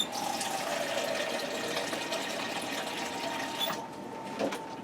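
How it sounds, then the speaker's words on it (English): Water runs in a quiet, steady stream into a 6-quart Power XL multi cooker while making ham and bean soup, pouring for several seconds before stopping near the end, no speech. "I think I'm going to add about 2 more cups of water in."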